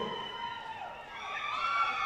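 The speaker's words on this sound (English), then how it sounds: "Listen to the crowd reaction" Crowd cheering and shouting across a rugby sevens stadium in Grenada, a broad steady roar that swells toward the end, held at moderate distance and mostly unbroken by talk.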